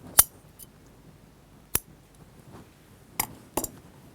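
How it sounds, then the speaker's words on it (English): Scissors snip through sewing thread while a dress facing is sewn, giving a few sharp, quiet clicks spaced across a mostly silent moment with no talk. "And cut your thread."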